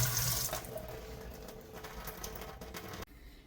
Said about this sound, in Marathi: असे नळाखाली पहिले स्वच्छ धुवून घ्यायचे